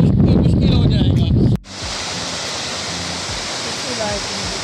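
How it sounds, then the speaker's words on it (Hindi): Loud, steady roar of the rushing Neelum River fills the scene after a brief stretch of other noise, broadband and continuous like churning rapids close by. "साथ में दरियाए नीलम की शोर मचाती लहरें"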